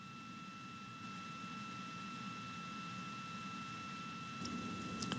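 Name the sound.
RD-180 rocket engine of the InSight launch vehicle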